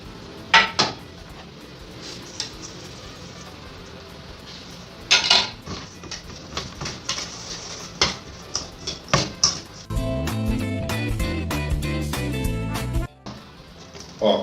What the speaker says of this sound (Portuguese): eu vou misturar a manteiga com açúcar de confeiteiro e vou bater até ficar um